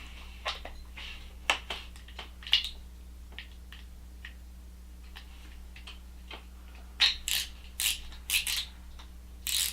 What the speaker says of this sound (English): Let's go ahead and put the spool back on.